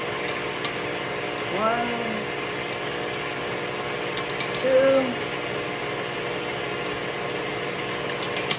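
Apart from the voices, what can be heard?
electric mixer whipping cream at higher speed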